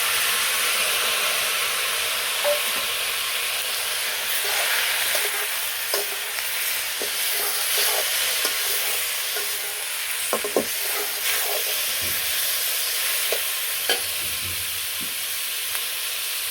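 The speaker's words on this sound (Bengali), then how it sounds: "এইভাবে চিচিঙ্গে মানে আমি ভেজে নেব।" Snake gourd fries with fish roe in a pan, giving a continuous, fairly loud hissing sizzle, with occasional light clicks of a spatula and no one talking.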